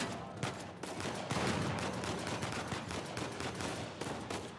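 Rapid gunfire in Uncharted 4, with dense overlapping shots including shotgun blasts, sharp broadband cracks repeating steadily through the clip, loud and close with no talk.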